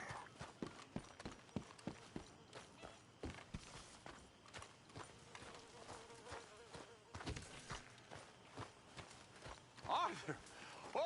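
Horse hooves clip-clop in a video game, a brisk run of distinct hoof strikes with a brief louder cluster near the end, and voices talk over them.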